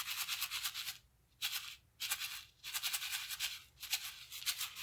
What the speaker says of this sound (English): And it's a shaker.